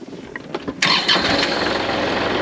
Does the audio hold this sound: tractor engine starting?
yes